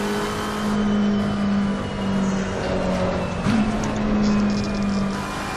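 A race car engine in Assetto Corsa Competizione, driven under careful throttle control, a loud, steady engine drone with slight pitch wavering and a brief blip partway, no speech.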